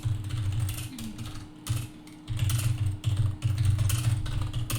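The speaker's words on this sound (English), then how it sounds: "What are you typing?" Keyboard typing clatters in bursts with short pauses, set against a steady low hum during a gaming podcast recording; no one speaks over it.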